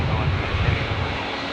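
A QantasLink airliner arriving from Gladstone at windy Brisbane Airport gives a loud, steady jet roar up close, with wind rumble and no clear change across the short stretch.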